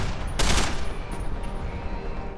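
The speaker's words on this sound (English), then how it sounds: "Shoot some dudes." Automatic gunfire in the video game Deus Ex: Human Revolution: a loud, dense burst of rapid shots followed by a fainter, noisy rattle, with no talk.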